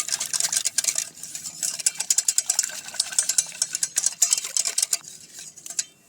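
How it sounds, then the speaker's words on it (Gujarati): A spoon stirs red chili powder and turmeric into a buttermilk and gram-flour batter for pakora kadhi, clinking rapidly and repeatedly against a metal bowl in close, bright, uneven strokes with no talk. "લાલ મરચું સરસ રીતે મિક્સ કરી લઈશું"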